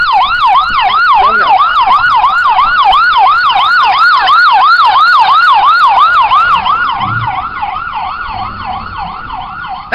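Ambulance siren wails loud and close in a fast, repeating up-and-down warble that holds steady for most of the stretch, then fades slightly near the end.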